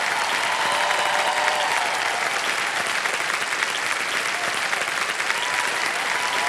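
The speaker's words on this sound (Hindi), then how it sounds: "तालियां बजती रहे और शोर मचता रहे इनके नाम पर।" Sustained studio audience applause on the Kaun Banega Crorepati quiz show, thick, even clapping from a large crowd, loud and close, with a faint music tone running underneath.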